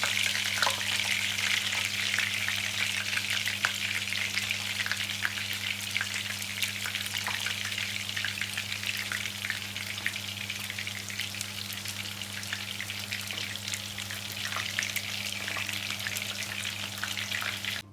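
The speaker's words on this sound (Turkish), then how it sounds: "Diğer köftelerini de kızartmak için ekleyelim." Steady, busy sizzling of chicken meatballs frying in hot oil in a pan, with crackles and pops throughout over a constant low hum.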